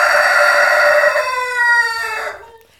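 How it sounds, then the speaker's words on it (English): A rooster crows loudly and close by, one full harmonic cock-a-doodle-doo trailing off over about three seconds, with no talk. "Rooster, shut up!"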